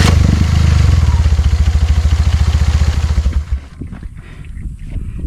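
A 3A92 engine with a K03 turbo in an off-road buggy chugs loudly and close in a fast, steady rhythm of heavy firing pulses for several seconds, then cuts out to quieter clatter and rustling.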